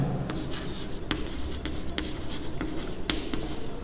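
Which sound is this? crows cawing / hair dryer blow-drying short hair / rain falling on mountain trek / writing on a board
writing on a board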